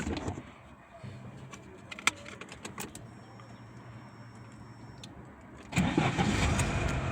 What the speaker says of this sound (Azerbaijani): İndi bax, motoru xotlayıram.